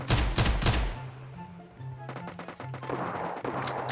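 Pistol gunshots in a video game, several sharp loud cracks at the start followed by a quicker series of fainter shots over background game sounds and music.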